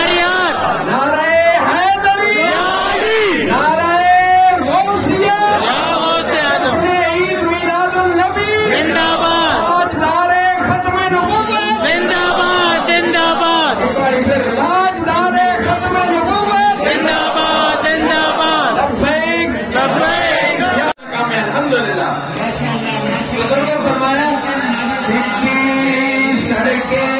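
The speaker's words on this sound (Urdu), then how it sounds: "تو یہ نعرے پہ مار رہے ہیں" Crowd at an Eid Milad un Nabi procession in Attock, voices rising in loud, continuous rhythmic chanting and calling of religious slogans, dense and near, with amplified speech woven through.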